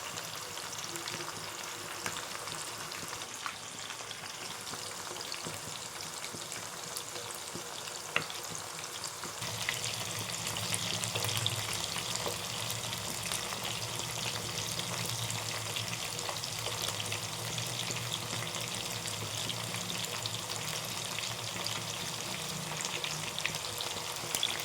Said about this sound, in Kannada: ಈಗ ಮೀನೆಲ್ಲ ಕಲಿಸ್ಬಿಟ್ಟು ಬಾಣಲೆಯಲ್ಲಿ ಎಣ್ಣೆ ಹಾಕ್ಬಿಟ್ಟು ಕಾಯಕ್ಕಿಟ್ಟಿದ್ದೆ, ಕಾದಿದೆ. ಇವಾಗ ಚಿಕನೆಲ್ಲ ಹಾಕಿದ್ದೀನಿ, ಬೇಯ್ತಾ ಇದೆ.